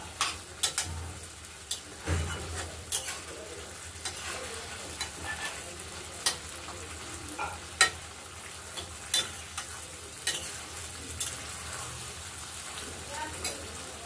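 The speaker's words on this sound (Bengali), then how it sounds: "এটা দিয়েও ভালো করে নেড়ে চেড়ে কষিয়ে নেবো" Pointed gourd curry sautéing in oil, with a steady background sizzle and repeated scraping stirs of a spoon against the pan at irregular intervals, close and moderately loud.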